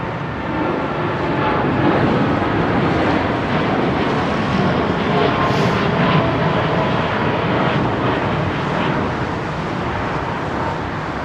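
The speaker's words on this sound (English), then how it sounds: "Low climb out for this Dreamliner, man." A Boeing 787 Dreamliner climbs out low after departing runway 09R at London Heathrow, giving a steady, loud, unbroken engine roar that holds evenly throughout with no one talking.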